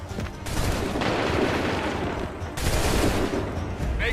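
A musket volley fired in the video game Assassin's Creed 3: heavy, dense rolling gunfire crackles in two loud waves separated by a short lull, with distant battle noise filling the background.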